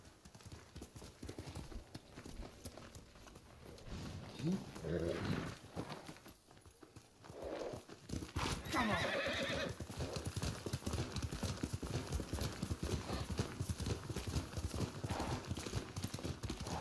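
Rapid clip-clop of a galloping horse in Ghost of Tsushima pounds on steadily, with a brief horse whinny and other sounds mixed in.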